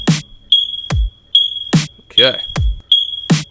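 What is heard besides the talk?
smoke detector chirping sample in a song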